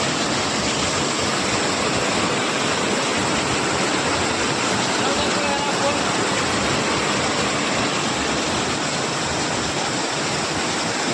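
Vibuti waterfall roars with rushing water at low flow, a dense, steady broadband wash that never lets up, loud and close for the whole stretch.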